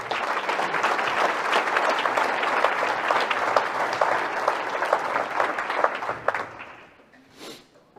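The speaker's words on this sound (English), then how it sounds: "So give those guys a round of applause." A round of applause at a Great Bend Chamber gathering, a crowd clapping steadily and fairly loudly for about seven seconds before tapering off to a few scattered claps and quiet.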